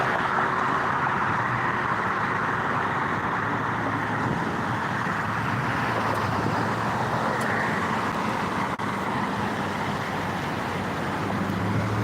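Cars idling and moving in road traffic at a red light, a steady broadband roadway hum with engine rumble throughout, fairly close, with no talking.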